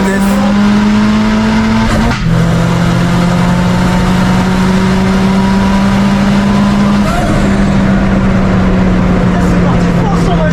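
A Citroën C15 launches hard at a drag race, its engine droning loud and close with a shift-like dip and a steady held tone, under a rough roar of tyres and other track noise.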